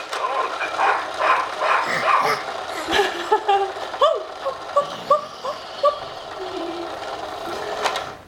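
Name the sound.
person imitating a dog barking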